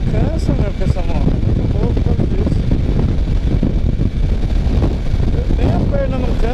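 Steady roar of wind turbulence and engine rumble aboard a moving Suzuki V-Strom DL 650 motorcycle, constant and close, with a rider's voice speaking over the noise.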